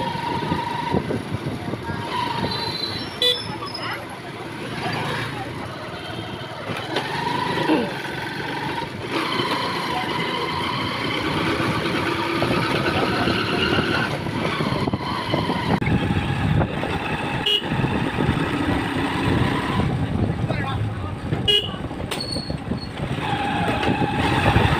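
An old, battered motorcycle being ridden near a market beside the Brahmaputra river gives a continuous engine and road rumble, steady and fairly loud, with occasional faint voices and passing noises.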